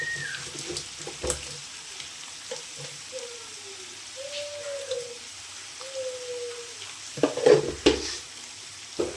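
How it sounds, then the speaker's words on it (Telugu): A chicken fry mixture is stirred in a pan with a steady sizzle, a few scraping strokes of the spoon and a louder clatter near the end, with no talking. "ఒకసారి కలుపుకుందాం మంచిగా"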